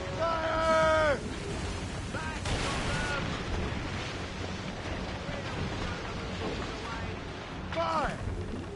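Ship cannons fire a volley during a naval battle in Assassin's Creed Rogue, booming explosions under orchestral music and shouted commands, with a loud burst at the start and another near the end.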